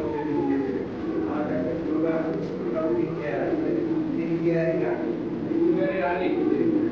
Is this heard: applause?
no